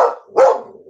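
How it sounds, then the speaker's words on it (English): A single close, sharp dog bark, loud and brief, with a fainter whine just before it. "And there go the dogs."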